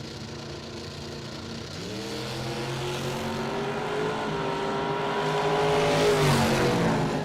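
Drag racing car on a 660-foot strip pulls away, its engine note rising through gear changes and swelling steadily louder as it approaches, with a harsh roar near the end.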